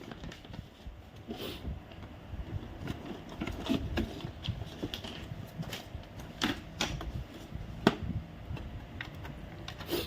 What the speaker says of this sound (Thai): เดี๋ยวผมจะลองก๊อปปี้หรือถ่ายเอกสารดูนะ